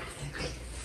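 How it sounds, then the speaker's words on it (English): A clingy dog makes a short, close whimpering noise during a home yoga class, a single brief sound less than a second long. "Clingy Dog is joining us for the second half of this class."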